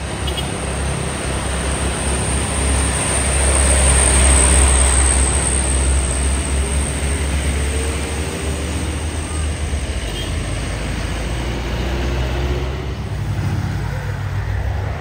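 Hino Ranger 4x2 container trailer trucks run their engines in a steady, loud diesel rumble that holds throughout, with broad roadway noise on top and no clear speech.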